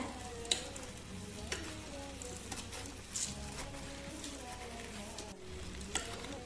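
Bhel puri is tossed with crunchy mixture in a bowl, making faint, continuous dry rustling and crackling with occasional sharper ticks of the spoon.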